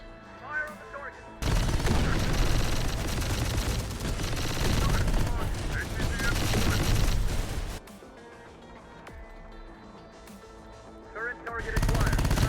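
Heavy automatic gunfire and explosions from the video game Terminator: Dark Fate - Defiance erupt in a loud, sustained barrage, drop to a quieter lull, then flare up again briefly, with spoken game voices in between.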